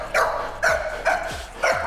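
A dog in protection training barks four times in a steady rhythm, each bark sharp and close, loud and alone with no talking over it.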